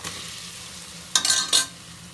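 Cinnamon, cloves, cardamom, ginger, garlic and onion fry in oil for mushroom biryani, a steady close sizzle broken by two louder bursts of stirring and scraping near the end.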